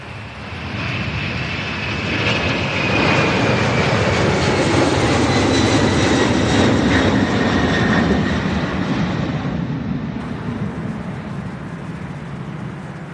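A jet airliner arriving at Louisville's SDF airport roars past close by, a broad loud rumble that swells and then slowly fades, with no voices.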